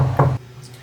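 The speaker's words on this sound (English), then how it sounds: "Oh, that's the sound of a hard-wood door. Right? No hollow knocking there." Knuckles rap on a solid hardwood door aboard a wooden sailboat, a few close, dull knocks with no hollow ring, followed by a quiet room.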